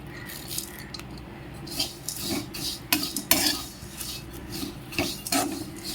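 Flattened rice and roasted gram are dry roasted together in a pan, giving an uneven run of dry scraping and rustling strokes as the grains are stirred, close and moderately loud.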